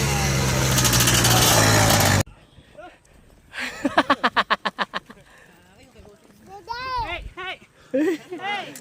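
A motorcycle engine in a video game set in New Zealand gives a loud, dense roar for about two seconds, then cuts out. Voices and other game sounds follow.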